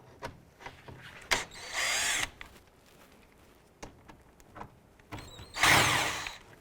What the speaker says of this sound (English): We're going to use a T25 Torx bit to remove this screw and this screw on the driver's side upper grille panel.